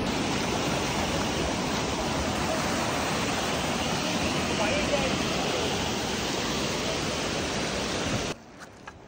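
Mountain stream on the Hemkund Saheb trek in Uttarakhand, water rushing in a loud, even, continuous roar that fills the scene and then cuts off abruptly near the end.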